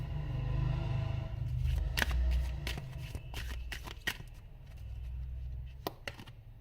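Tarot cards shuffled and handled during a reading, soft papery riffling followed by several sharp snaps and taps as cards are set down, close and alone over a low hum.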